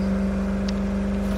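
A car in the zombie survival game State of Decay 2 gives off a steady, even engine drone with a low pulsing hum and no speech over it.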